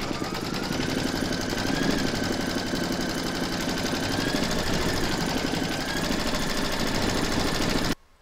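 An embroidery machine stitches batting held in a hoop for a reindeer appliqué, a steady rapid mechanical chatter and hum running continuously at close range before stopping at the end.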